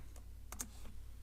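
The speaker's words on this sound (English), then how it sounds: "now I can come back over to my command window and I can type in npm" Keys clack on a computer keyboard as a command is entered, a few quiet, separate clicks spaced irregularly over a faint steady background hum.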